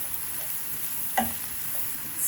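Carrots frying in a pan with a soft, faint sizzle and a single quick scrape of stirring partway through, quiet and close.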